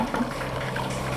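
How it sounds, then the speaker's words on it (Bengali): Water splashes and gurgles steadily while something is being washed and rinsed clean, as a continuous moderate wash of liquid noise with a low hum underneath. "আমরা এখন ধুয়ে দেখা হচ্ছে"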